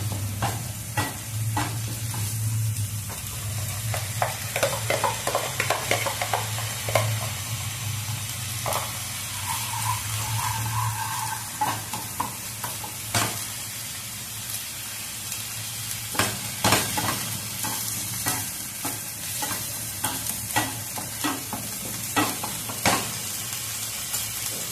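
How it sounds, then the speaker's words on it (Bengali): Onions frying in oil on a medium-high flame for a chicken bharta, a continuous close sizzle broken by frequent stirring scrapes and clicks of a spoon against the pan. "পেঁয়াজটা 5-7 মিনিট মতন মিডিয়াম টু হাই ফ্লেমে ভাজতে হবে।"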